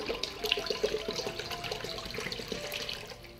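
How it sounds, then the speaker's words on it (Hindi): Water pours steadily into a pot set up for steaming, a continuous splashing, gurgling stream at close range with no talking. "इसमें हम पानी डाल देंगे जिससे ये बेस से थोड़ा ऊपर रहेगा।"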